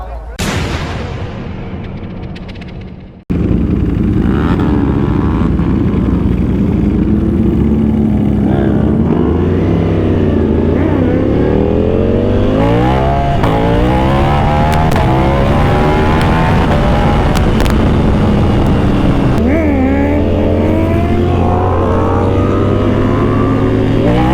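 A car driving home from a Thai temple fair, its engine droning loudly and steadily with rising and falling gear pitches after a brief quieter opening, heard from inside the vehicle.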